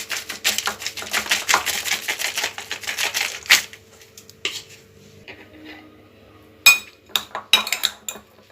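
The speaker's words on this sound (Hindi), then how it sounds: "सबको मिक्स कर लूँगी" A spoon clatters against a bowl while tomato sandwich stuffing is mixed with black salt for a veg cheese sandwich, with fast rhythmic clinks and scraping for several seconds, then a pause and a few more sharp taps, close and loud.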